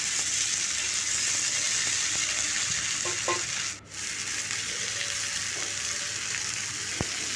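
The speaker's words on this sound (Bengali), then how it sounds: "আর বারবার নেড়ে নেড়ে মশলার সাথে কুঁদরি আর আলুকে খুব ভালো করে ভেজে নেব।" Kundri and potato fry with spices in a pan over a medium flame, a steady close sizzle running throughout with occasional stirring scrapes and a brief dip midway.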